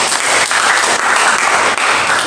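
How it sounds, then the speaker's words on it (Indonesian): Congregation at a worship service in an apartment applauding loudly, a dense, continuous roar of clapping close by and filling the room. "Tepuk tangan yang paling gede."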